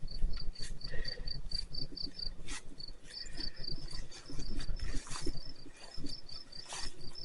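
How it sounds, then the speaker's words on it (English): Crickets and other insects chirping in a steady, repeating trill in a Keene, New Hampshire cemetery on a summer day, with some outdoor rustling underneath. "So many bugs."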